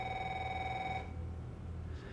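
A telephone rings in an action film scene, one trilling electronic ring lasting about a second before cutting off into quiet background hum.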